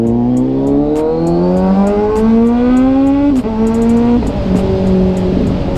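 A Kawasaki Ninja 1000SX motorcycle ridden through traffic, loud and close, its engine revving up through the gears in a rising, stepping whine with brief dips at each shift.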